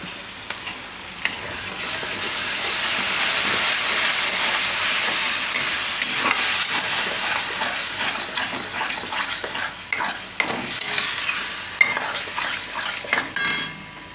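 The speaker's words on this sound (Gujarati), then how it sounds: "હવે આમાં નાખી દઉં આપણે આ ટમેટાની પ્યુરી." Tomato puree tipped into a hot pan for a mixed dal vadi shaak, a loud continuous sizzle with a spoon scraping and stirring against the pan, the strokes growing more rhythmic and distinct toward the end.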